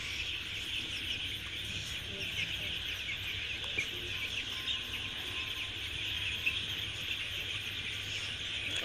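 A flock of week-old broiler chicks on a farm cheeps in a constant, overlapping high-pitched chorus, soft and unbroken, with an occasional louder peep standing out.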